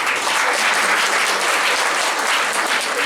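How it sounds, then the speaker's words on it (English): A conference audience at an inaugural ceremony claps in a full, loud round of applause, dense and continuous from start to finish with no voices over it. "Please give a big round of applause."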